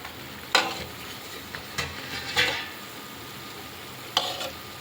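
Mysore bondas deep-fry in hot oil with a steady sizzle, broken by several louder bursts of bubbling as pieces are stirred and turned, heard close and without speech.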